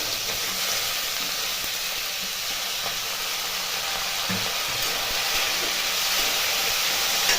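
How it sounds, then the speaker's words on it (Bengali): Chopped potatoes hiss and sizzle in a hot pan with lightly fried onions, a steady, even frying noise that runs throughout with no voices. "এবার ওইতে দিয়ে দেবো আমি কুচিয়ে রাখা আলু"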